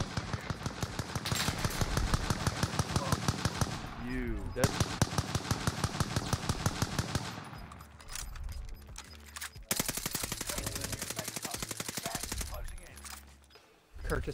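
Sustained rapid automatic gunfire in Warzone Pacific Vanguard Resurgence, long dense bursts of shots broken by brief pauses, with players talking over the shooting.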